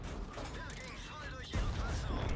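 A tank cannon fires in the World of Tanks video game, a single sharp boom at the midpoint that lifts a busy background of battle noise and rumble.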